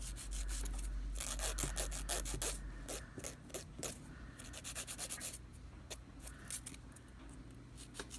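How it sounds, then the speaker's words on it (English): Nail file rasping repeatedly across dip powder nails while shaping them, a close, steady scraping in quick rhythmic strokes that turn choppier and more broken toward the end. "we are going to start filing our shape"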